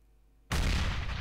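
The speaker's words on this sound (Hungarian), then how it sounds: "És felrobban a végén egy kicsit" A modded Counter-Strike: Global Offensive decoy grenade goes off in a small explosion, a sudden loud broadband blast that bursts in after brief quiet and roars on with a sustained rumbling tail, no talk over it.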